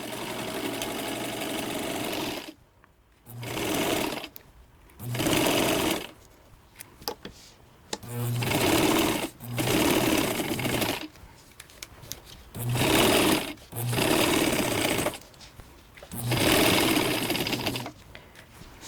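A home sewing machine runs a narrow stitch through thrifted holiday decor fabric in repeated bursts of fast, whirring stitching, close and loud, with brief pauses between runs and no talk.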